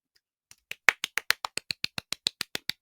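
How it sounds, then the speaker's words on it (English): Hands clap in a steady, quick rhythm, about fifteen sharp close claps spaced evenly after a brief quiet start, with no talk over them. "I'm clapping right now"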